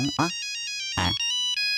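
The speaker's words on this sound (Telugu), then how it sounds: "నా బుజ్జి ఫోన్ చేసింది." A mobile phone rings with an electronic ringtone for an incoming call, a bright repeating melody of steady tones, close and clear, heard in a Telugu TV serial scene with brief speech over the start.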